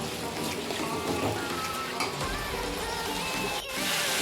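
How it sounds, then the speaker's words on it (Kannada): Tomatoes frying in hot oil for a tomato chutney, a dense continuous sizzle with crackling spatter close by, occasional stirring scrapes, and no voices. "ಟೊಮೊಟೊವನ್ನು ಹುರಿತಾ ಇದ್ದೀನಿ"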